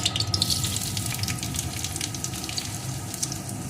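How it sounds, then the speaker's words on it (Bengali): Chopped onion hits hot white oil in a pan and fries with a dense, steady crackling sizzle, close and fairly loud, with no one speaking. "তেলটা আমার গরম হয়ে গেছে এখন এর ভিতরে দিয়ে দেবো টুকরো করে কেটে রাখা পেঁয়াজ"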